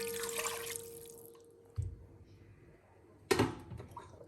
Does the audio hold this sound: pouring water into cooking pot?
yes